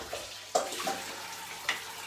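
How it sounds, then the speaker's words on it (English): Water splashing and running as rice is rinsed in a cooking pot to wash off the starch, a steady wash broken by a few sharp knocks of the pot. "just rinse it out and get rid of all that starch"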